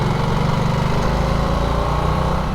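A 2022 Harley-Davidson Nightster motorcycle on its stock exhaust, running steadily between stone walls: a loud, close, smooth engine drone with an even low pulse and little variation, no voices present.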